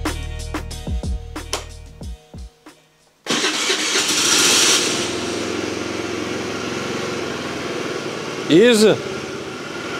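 An engine cranks and starts with a few sharp bursts, then settles into a steady, quiet idle hum, with people talking nearby.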